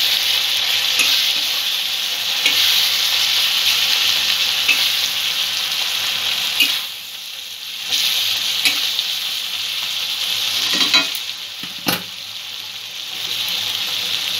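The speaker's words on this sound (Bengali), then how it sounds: "হাফ চামচ লঙ্কার গুঁড়ো দিয়ে দেবো। সমস্ত মশলাগুলো একটু ভালো করে কষিয়ে নেব।" Ground spices with chili powder sautéing in a pan for a fish and vegetable curry: a steady, loud sizzle with stirring scrapes that dips briefly twice, close by and with nobody speaking.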